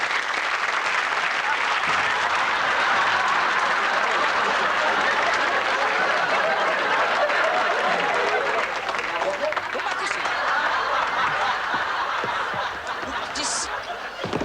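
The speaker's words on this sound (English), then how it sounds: "I want you now, nice round of applause." Studio audience at a magic show applauding in a sustained, even burst of many hands, with scattered laughter and chuckles mixed in before it thins slightly toward the end.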